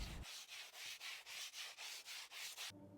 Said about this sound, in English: Anthony sands the joint again for attempt number 2.